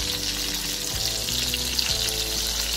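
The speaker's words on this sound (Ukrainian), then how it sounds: "Ну, все одно будемо смажити" Buckwheat patties sizzle and crackle steadily in a hot pan, a dense continuous frying hiss with a faint hum underneath and no speech.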